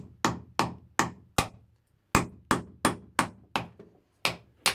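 An axe used as a hammer knocks on the back of a Victorinox saw to split wood, about eleven sharp, hard blows in an uneven rhythm with short gaps, close and loud with no talking.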